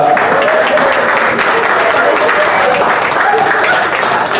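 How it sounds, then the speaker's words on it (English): Loud, continuous crowd applause at a peace-over-violence rally in Dayton, Ohio, thick and even throughout with scattered cheering voices underneath. "And give her another round of applause."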